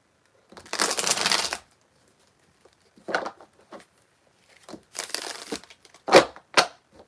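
Tarot cards being shuffled up close in several separate bursts, crisp riffling and papery slapping with short pauses between each bout, nothing else audible.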